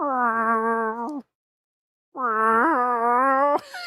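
A human voice imitates a distressed cat's meow with two long, wavering, whiny cries separated by a short pause, loud and close.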